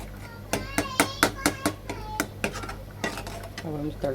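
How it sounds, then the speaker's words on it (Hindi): Hot tadka of red chili is poured into cooked dal in a kitchen, with a series of sharp metallic clinks of a spoon against a pot and a brief sizzle as it is stirred. "अब हम इस तड़के को दाल के अंदर डालेंगे।"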